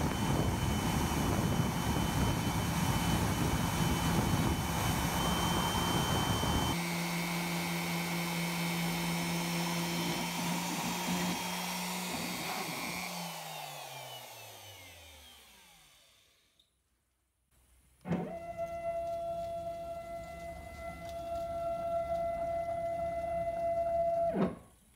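A CNC router climb-cuts a Made in USA badge with a loud, steady tonal whine and rough cutting noise. The spindle then winds down to near silence before spinning back up to a high hum.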